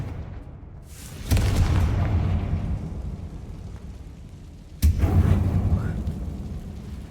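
Two Confringo fire spell explosions in Hogwarts Legacy, each a sudden loud burst followed by a long rumbling tail, several seconds apart.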